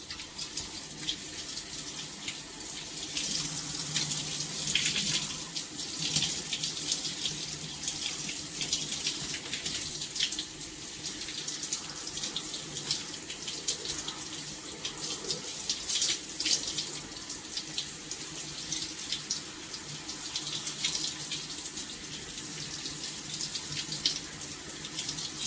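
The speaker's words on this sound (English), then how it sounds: "I have a little bit of water running in the background." Water runs steadily from a tap while hair is being rinsed, a continuous hissing splash with small fluctuations and no break throughout.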